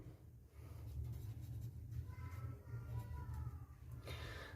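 A pen scratches quietly across paper while physics problem data is written down in a still room, with soft, irregular strokes close by.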